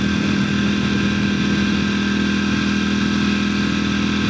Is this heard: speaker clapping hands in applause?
no